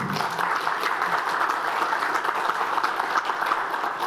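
At a Lawrence town hall meeting, an audience applauds the mayor as he takes the stage, a steady sustained wash of clapping at moderate level with no voices over it.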